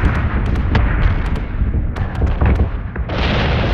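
Heavy naval guns fire in a video game, a rapid series of loud booming blasts with sharp cracks and rumbling tails, near and dense, with no talk.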